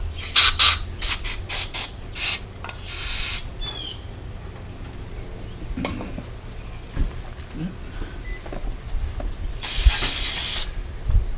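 Cleaner sprayed in repeated short bursts to rinse a disassembled carburetor, loud hissing blasts early on with a longer spray near the end, separated by quieter handling noises.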